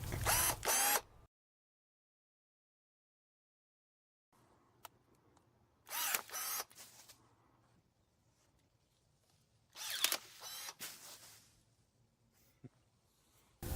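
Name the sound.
battery-powered DeWalt electric pruning shear cutting a tree branch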